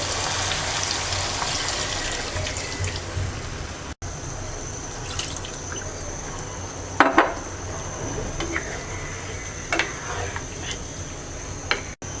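One and a half cups of water pour into a simmering hilsa fish curry with drumsticks, a rushing liquid splash with a few clinks of the pot and no talk.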